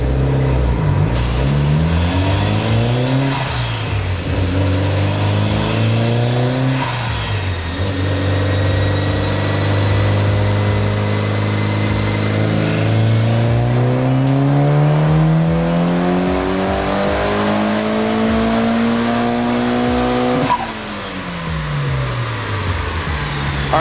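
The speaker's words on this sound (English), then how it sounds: "we made the dyno pull" Mitsubishi Evolution 8 with a turbocharged 4G63 four-cylinder making a dyno pull at 22 PSI, loud and close: engine revs climb steadily through the gears, drop back, then rise in a long sustained sweep before cutting off near the end.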